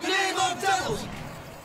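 A crowd at a football match cheers and yells loudly, a surge of shouting voices that peaks early and then fades.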